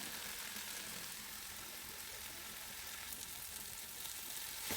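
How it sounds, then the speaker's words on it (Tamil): Tomatoes sautéing in oil in a pan for chicken biryani make a soft, continuous sizzling hiss that stays even throughout, quiet and unaccompanied. "இப்போ தக்காளியை நல்லா அந்த எண்ணெயில் வதக்கலாம்"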